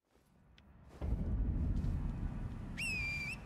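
A brief rising then steady tonal whistle in the Elden Ring video game, sounding near the end over a loud rumbling game soundscape.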